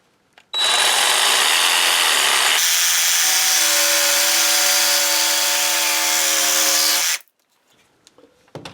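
A power saw cuts belt buckle blanks from a wooden bar in one loud, steady whine of about seven seconds, its tone shifting partway through as the blade bites, followed by faint shop noise.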